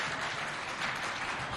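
Dense applause from a studio audience at a children's television show in Moundou, a loud, even wash of clapping with no voices over it.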